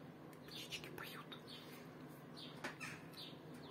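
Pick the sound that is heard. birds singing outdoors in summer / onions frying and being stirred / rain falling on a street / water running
birds singing outdoors in summer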